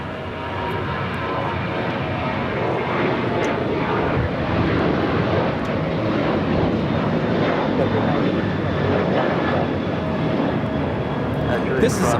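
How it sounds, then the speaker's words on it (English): An Alaska Airlines Boeing 737-800 bound for Portland takes off at LAX, its jet engines a loud, steady broadband roar that holds for the whole stretch, with voices speaking faintly beneath it. "This is Alaska Airlines 1370 taking off to Portland on the 737-800"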